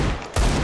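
A single sharp Desert Eagle pistol shot in CS:GO, loud and close, cutting in abruptly midway after a brief lull.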